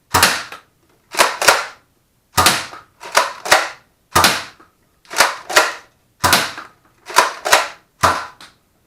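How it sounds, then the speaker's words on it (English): Buzz Bee Reaper toy blaster, stock, firing in a quick series: sharp, loud pops arriving in close pairs, evenly spaced over several seconds with silence between, no talking. "I'm going to fire 5 shots through this."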